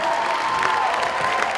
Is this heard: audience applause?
yes